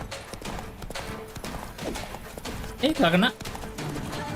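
Roach the horse's hooves clip-clop at a steady gait in The Witcher 3: Blood and Wine, mixed under game sounds and a man's speech.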